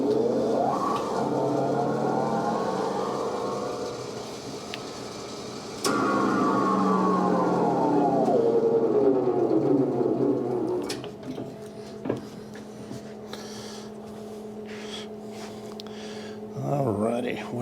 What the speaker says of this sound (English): I'm going to go ahead and spin this again and see where we're at